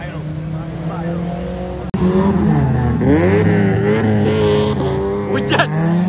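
A Volvo car engine revs loudly outdoors with a deep, V8-like growl, pitch sweeping up and down through several throttle blips while people talk nearby over the engine noise.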